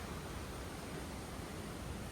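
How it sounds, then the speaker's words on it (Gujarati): A dense, steady roar of falling water from a nearby waterfall in Bali fills the whole clip, loud and unbroken. "આ ધોધ પાસે પહોંચી ગયા છે"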